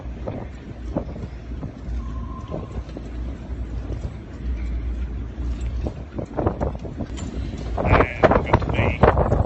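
A Bayliner 2556 motorboat running through choppy water near a marina, a low engine rumble mixed with wind buffeting and irregular hull slaps that grow louder toward the end.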